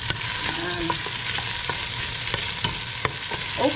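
Chorizo sizzling and frying steadily in a pan while being stirred, with a continuous close crackle broken by occasional scrapes and clicks of the utensil.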